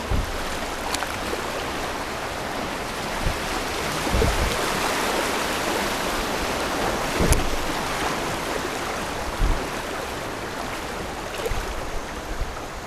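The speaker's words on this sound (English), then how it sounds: "This looks like a waterfall up ahead." Rushing water on the Cahaba River roars steadily like rapids, broadband and constant for the whole stretch, with occasional thumps and knocks underneath.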